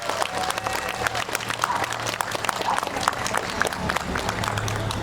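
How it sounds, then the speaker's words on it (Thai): Steady applause from a crowd at a political campaign rally, dense clapping that continues throughout with some background voices. "ขอเสียงปรบมือดังๆให้เกตการดายครั้งนึงได้ไหมคะ"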